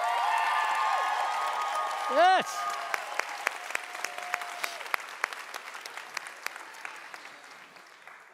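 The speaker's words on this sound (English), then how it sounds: "How about another round of applause for all these graduates?" Applause for graduates at a graduation ceremony, loud at first under a brief spoken word and a rising whoop, then thinning into scattered individual claps that fade toward the end.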